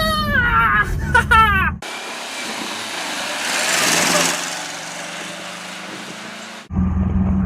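Engine of a Subaru BRAT pickup while driving, a steady broadband roar that swells through the middle, loud and close, bracketed by a person's voice before and after.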